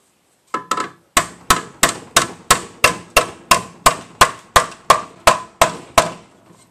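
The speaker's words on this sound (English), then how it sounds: "I'm going to go ahead and hammer down these edges now." Sharp metallic hammer blows ring out at a steady pace, about fourteen strikes in a row, hammering down the edges of a vehicle subframe during rust repair, close and loud with brief decays.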